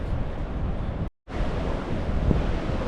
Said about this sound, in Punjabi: ਸਮੁੰਦਰ ਕਹਿੰਦੇ ਪੂਰੀਆਂ ਜ਼ੋਰਦਾਰ ਛੱਲਾਂ ਤੇ ਚੱਲ ਰਿਹਾ ਏ